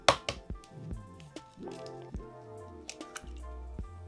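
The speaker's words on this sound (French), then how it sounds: "je casse mon œuf" An egg cracked for takoyaki batter made with okonomiyaki sauce: a few sharp taps and cracks, then wet drips and squishes close by in a quiet kitchen, with no talking.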